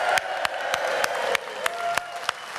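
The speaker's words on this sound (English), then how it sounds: "Give yourselves a round of applause." A crowd at a Leave Means Leave rally in Gateshead claps at close range, a dense, even patter punctuated by a few sharper slaps across the short stretch.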